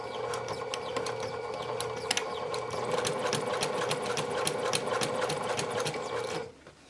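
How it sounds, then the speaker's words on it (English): A sewing machine stitches around the edge of a fabric tie-back face mask, running in a fast, even mechanical patter close up for about six seconds before stopping, with no speech. "I'm going to be sewing the mask around the edge with an 1/8 of an inch seam allowance."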